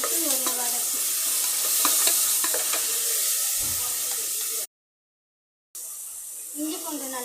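Ginger garlic paste sautés with tomatoes in a pan for mutton gravy, giving a steady close sizzle with scraping stirs. A faint voice is present, and the sound cuts out for about a second partway through.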